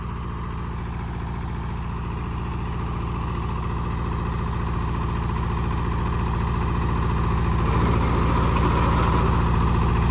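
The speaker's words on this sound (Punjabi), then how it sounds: "ਸ਼ਕਤੀਮਾਨ ਦਾ 4 ਫੁੱਟਾ ਰੂਟਾ ਬੈਟਰ ਹੈ ਜੀ ਦੇਖੋ ਬਿਲਕੁਲ ਆਰਾਮ ਨਾਲ ਚੱਲ ਰਿਹਾ" A Shaktiman 4-foot rotavator runs behind a tractor in a field, with a steady, loud low engine drone and a continuous mechanical whir that builds slightly toward the end, with no voices.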